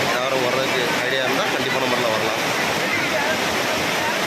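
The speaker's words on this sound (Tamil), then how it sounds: "எல்லா அருவிகளுமே நல்லா சூப்பராக தண்ணி வந்துகிட்டு இருக்குது" Courtallam main falls pouring with a full flow of water, a dense unbroken roar of falling water that holds steady and loud throughout, with no voice heard over it.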